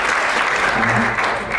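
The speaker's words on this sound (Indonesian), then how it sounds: "tepuk tangan untuk Bapak Ibu sekalian ya" Loud, dense applause from an audience at a Kemenkumham Bali seminar in Denpasar, a steady wash of many hands clapping that holds evenly throughout.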